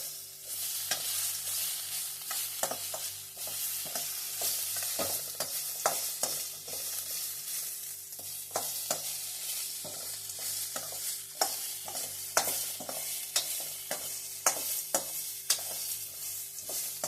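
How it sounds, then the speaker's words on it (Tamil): Tomatoes sautéing in a pan for a drumstick soup, a soft steady sizzle with frequent spatula scrapes and stirring taps at an even pace, fairly quiet and with no voices. "தக்காளி நல்லா வதக்கிடணும்."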